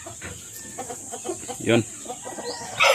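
Chickens cluck in a small backyard coop where hens are brooding and laying eggs, a series of short, rhythmic close clucks and calls, partly mixed with someone speaking briefly near the end.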